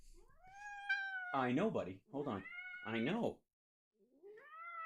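A cat meows in several long, rising and falling cries at close range, the meows running together in the middle and stopping before a final shorter call, with someone briefly speaking nearby.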